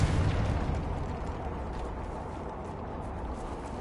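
A Confringo fire spell explodes in the video game Hogwarts Legacy with a booming burst at the very start, then a long, rumbling roar that slowly fades.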